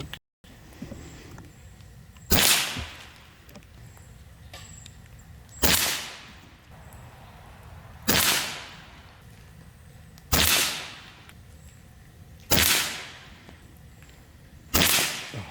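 Six sharp, loud cracks come from a Kral Arms Empire XS micro bullpup PCP air rifle firing 18.1 grain pellets outdoors in fog. The evenly spaced shots fall about two to three seconds apart, each with a brief decaying tail, and no one talks.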